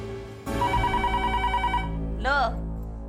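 A telephone rings indoors in a Hindi TV serial scene, starting abruptly with a steady buzzing electronic ring that runs loud and continuous, ending in a warbling tone.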